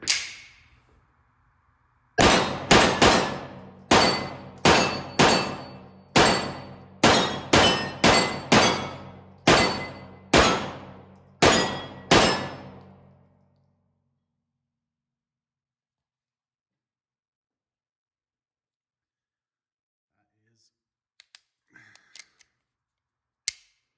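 A 9mm Beretta 92-style pistol fitted with a Griffith Guns GG92 compensator fires about fourteen loud, sharp shots in an uneven rapid string that empties a magazine. Near silence follows, with a few faint clicks at the end.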